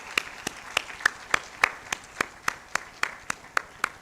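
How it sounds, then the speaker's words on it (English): A forum audience at a career day event applauds, a thin run of distinct claps spaced at a steady beat, as though only a few people are clapping. "please welcome him with a round of applause"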